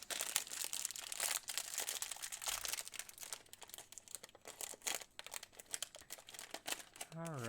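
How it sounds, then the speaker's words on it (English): Spare plastic bags from Lego sets crinkle and rustle continuously as they are stuffed into a garbage pail close by, with someone talking faintly near the end. "I'll continue to load the garbage pail beside me with all of these spare plastic bags"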